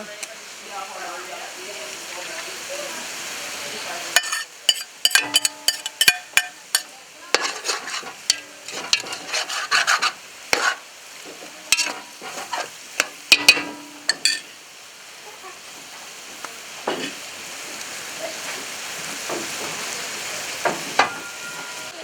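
Tomatoes for rougail saucisse cook in a pot over a wood fire: a soft background sizzle broken by bursts of clattering scrapes as a utensil stirs, with a voice talking at times.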